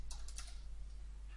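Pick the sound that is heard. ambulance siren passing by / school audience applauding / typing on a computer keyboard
typing on a computer keyboard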